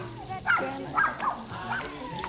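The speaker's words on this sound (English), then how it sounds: "schnauzers at the door barking" Schnauzers barking at a door, giving about four sharp, fairly close barks spaced roughly half a second apart over a low, steady background hum.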